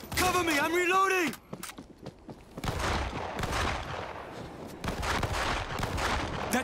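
Gunfire from a bus in the zombie shooter World War Z, heard as bursts of sharp cracks amid chaotic game noise, with a loud shouting voice at the start and scattered sounds throughout.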